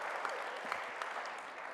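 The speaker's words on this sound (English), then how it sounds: "so I think applause for Stefan is" A tech conference audience gives applause, heard faint and somewhat distant as a soft, steady wash of clapping with a few louder claps popping through.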